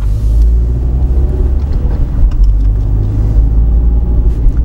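Inside a car on a driving road test, the vehicle steers through an intersection with a loud, steady low engine and road rumble filling the cabin, and no other sounds stand out.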